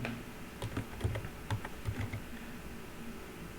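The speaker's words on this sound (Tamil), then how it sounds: "நான் நேச்சர்ஸில் டைப் பண்ணுறேன்." Keys clatter on a computer keyboard in a short burst of quick, uneven taps, close and fairly soft, with no speech over them.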